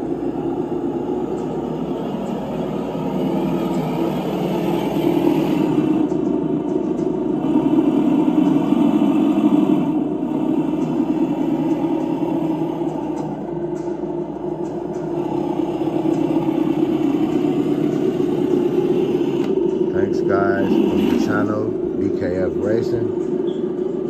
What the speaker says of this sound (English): Listen to the sound difference of the motors too. If you listen to that, that sounds like a tow truck.